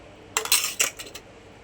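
A utensil stirs bombil fish with garlic, chili and ginger paste in a small dish, giving a short cluster of close metallic clinks and scrapes over about a second.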